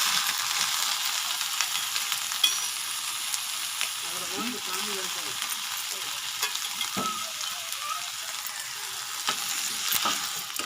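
Gongura chutney ingredients frying in oil in a village-style kitchen, making a steady hissing sizzle with occasional soft stirring scrapes and small clicks throughout.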